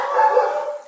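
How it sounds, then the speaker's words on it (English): A dog in the background lets out a single drawn-out bark, fairly loud and clear, fading off near the end of the short moment. "sorry for the barking in the background"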